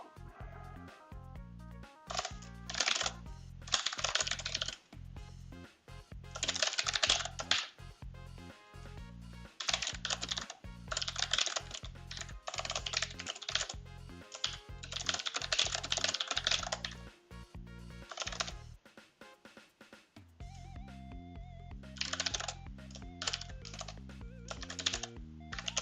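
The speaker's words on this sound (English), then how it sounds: "Typing slow again." Computer keyboard typing during a programming session in Visual Studio, bursts of rapid clacking keystrokes separated by short pauses, close and clear over a low steady hum, with no talking.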